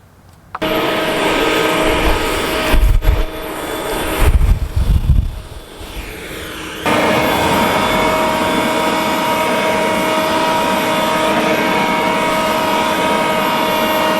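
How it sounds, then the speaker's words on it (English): A Ryobi 40V HP battery-powered leaf blower starts up with a loud, steady, high-pitched whooshing whine, briefly dips, then surges to a stronger, louder roar that holds to the end. "blowing off your sidewalks with grass clippings, even a little bit of dirt, blowing out your garage"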